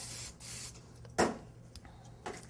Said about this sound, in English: Just going to give the spatula one more spray.